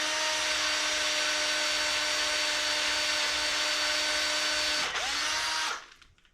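A power drill whines steadily at close range for several seconds while drilling during Honda Odyssey rear brake work, its pitch dipping briefly before the motor winds down and stops.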